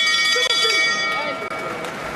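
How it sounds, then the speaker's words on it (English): A boxing ring bell rings to open round six of an IBF world super lightweight title fight, its bright sustained tone hanging over crowd noise and commentary. "The bell for 6."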